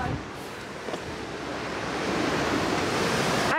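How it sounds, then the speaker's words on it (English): Strong wind roars across an expedition cruise ship's deck in the Drake Passage toward Antarctica, buffeting the microphone in a steady, loud whoosh that swells toward the end. "It's so windy."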